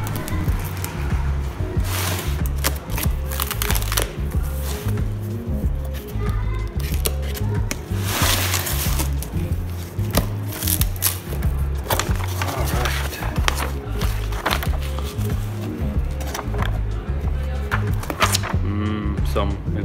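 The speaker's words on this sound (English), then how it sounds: "Let's quickly unbox and see what's inside of it" A package holding a Carberry jumbo brake disc and caliper bracket being opened up close, with repeated crinkling, tearing and rustling of packaging and cardboard over about twenty seconds while a person talks over it.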